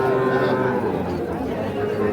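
Young heifer calves at a rural cattle market, with a continuous low mooing and bovine murmur under a steady crowd hubbub and scattered nearby talk.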